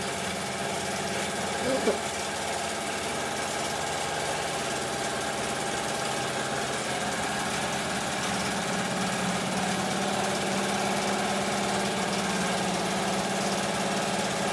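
An in-the-hoop embroidery machine tacks down minky fabric on a stuffed cow toy, producing a continuous, fairly loud motorized hum and rapid stitching vibration that holds steady throughout, with a brief small bump early on.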